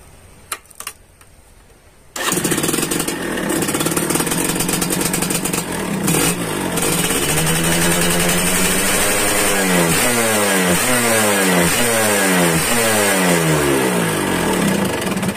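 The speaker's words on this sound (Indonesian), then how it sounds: "Oke teman-teman, kita coba ya untuk tes dari settingan karbu motor ini." A ported Suzuki Satria two-stroke motorcycle is revved during a carburetor tuning test, starting with a loud blip and then holding a steady, buzzing high rev that rises and falls in repeated waves, close up.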